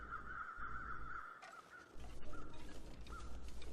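Crows caw in the game The Long Dark, harsh repeated calls from more than one bird at a moderate distance, over a low wind-like ambience.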